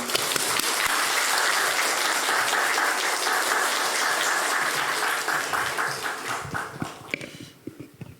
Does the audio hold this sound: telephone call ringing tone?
no